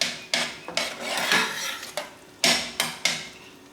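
A spoon stirs homemade tomato sauce for cheese manicotti in a pot, making a series of about seven scraping, clinking strokes close by, with no talking.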